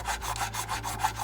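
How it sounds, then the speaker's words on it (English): Steady hand sanding of a recessed area on a plastic model dropship pod section, a close, continuous rasping rub with even back-and-forth strokes. "So what I'm doing at the moment is just sanding this depression area out."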